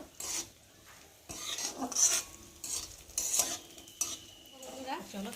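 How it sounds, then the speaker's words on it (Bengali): A spatula repeatedly scrapes and stirs against a pan in uneven strokes as coconut fries until brown, over a soft background sizzle. "আমি এখন নারকেলটাকে ভালো করে ভেজে নেব একটু বাদামি কালারের মতো করে ভেজে নেব"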